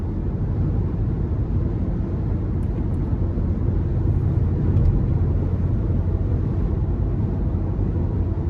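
2011 Range Rover HSE with a 5.0 V8 cruising on the interstate: a steady, broadband low rumble of road and engine noise from inside the cabin, unbroken throughout with no talking.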